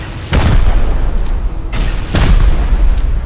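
Rocket explosions in the survival game Rust, several heavy booms landing in quick succession, loud and close, each with a deep rumbling tail amid continuous low battle noise.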